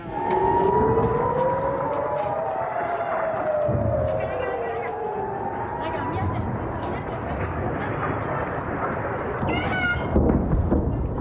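A civil defense air raid siren wails loud and steady, its rising and falling tones sweeping back and forth across the whole stretch during rocket alerts in a conflict zone, with faint chatter and crowd noise beneath.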